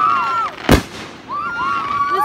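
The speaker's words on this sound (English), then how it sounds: "I'm just gonna say these are fireworks if you don't wanna watch it." Fourth of July fireworks go off with one sharp, close burst, set among whistling tones that rise and fall before and after it.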